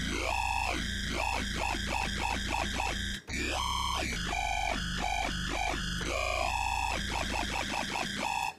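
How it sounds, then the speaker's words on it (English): A loud, continuous synthesized growl bass, wobbling and shifting in tone with rhythmic modulation, with a brief dropout partway through. "Now you have yourself a really cool growl."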